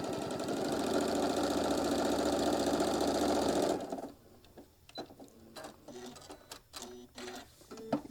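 Sewing machine stitching a fabric travel case for a mini iron, running in a fast, even mechanical chatter for several seconds before stopping abruptly, followed by scattered quiet clicks and handling knocks.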